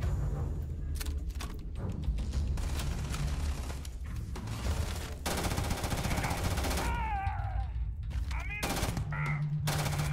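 Machine gun fire in Starfield's combat, with rapid bursts of gunshots broken by short pauses, loud and close, mixed with mechanical clatter and game effects.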